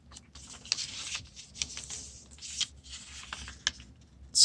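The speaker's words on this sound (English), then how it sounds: "we're going to fold each side into the center here" A paper origami square is folded by hand, with close crinkling, rubbing and creasing sounds in short bursts and a sharper crackle at the end, quiet and without talk.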